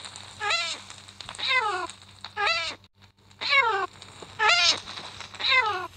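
Minecraft cats meowing while standing in fire, a string of six or so sharp, whiny meows in quick succession, clear and close over a low background hum.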